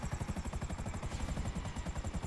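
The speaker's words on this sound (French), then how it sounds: "Oh là, hélicoptère en fight." A helicopter in combat in GTA Online thumps with a steady, rapid rotor chop at moderate volume, its rhythmic beating continuous throughout with no talk over it.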